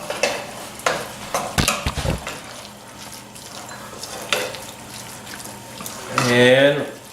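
Half a lime is folded into jalapeno corn fritter batter with wet, squelching stirs and a few sharp scrapes against the bowl, then a voice speaks briefly near the end.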